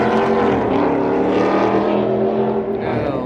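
A loud BMW 435i engine drones and revs steadily at close range, a sustained throaty exhaust note with rising and falling harmonics throughout, and faint voices around it.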